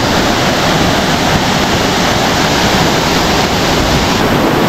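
Water rushes loudly and continuously at Elephant Falls, a powerful roaring cascade heard up close with some wind buffeting the microphone.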